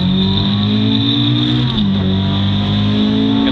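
A rear-wheel-drive car drifting in a slow-motion replay, its engine producing a loud, sustained revving drone with a slight pitch dip midway, and no voices.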